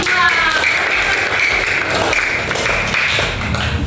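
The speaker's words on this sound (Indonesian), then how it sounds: "Tepuk tangan untuk kelompok" Classroom clapping for a student group during an Indonesian teaching session, a dense, steady patter of many hands that runs through the clip, close and fairly loud, with some tapping and a faint voice beneath.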